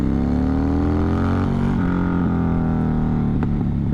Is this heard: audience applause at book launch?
no